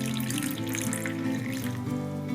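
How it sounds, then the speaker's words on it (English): Water is poured into a small bowl of cornstarch in a home kitchen to make a paste for hot and sour soup. A steady pouring trickle runs throughout, close by, under continuous background music. "so I'll just add water to this and I'll dissolve it in the water."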